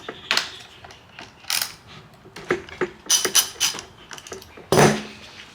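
Someone loosens the 1/2 inch bar nuts on an M18 Milwaukee chainsaw with a hand tool, producing a close series of sharp metallic clicks, ratcheting ticks and small clanks in irregular bursts, with no one talking.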